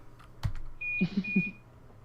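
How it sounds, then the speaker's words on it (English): A single steady electronic beep tone from a train cab in the video game Train Sim World 2 sounds for under a second, accompanied by a few soft clicks and low thuds nearby. "Now it's beeping at me."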